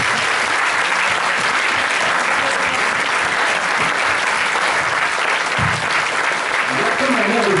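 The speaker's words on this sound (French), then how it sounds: "Stéphane Méance, on peut l'applaudir" An audience applauds the cinematographer at a French film event, with dense, steady clapping that fills the room loudly and evenly from start to finish.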